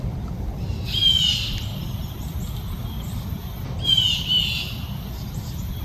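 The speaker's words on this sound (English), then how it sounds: "And we've got some more birds." Birds call at a Louisiana state park near a river, two brief chirping, squeaky bursts a few seconds apart, fairly distant over a steady low rumble of wind or water.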